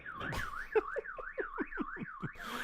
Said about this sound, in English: As we are enjoying this banger of an alarm sound